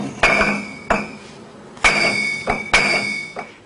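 French gold bars are struck and clink together, each hit giving a bright, ringing, crystal-like tone that lingers. There are about six sharp strikes at irregular intervals, close and clear, with no speech.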